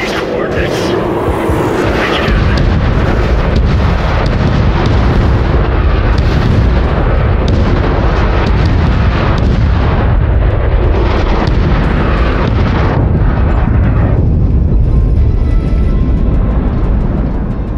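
Heavy artillery bombardment in the video game Crossfire Legion, a dense, loud, continuous roar of overlapping blasts and rumbling impacts that runs throughout, thinning slightly toward the end.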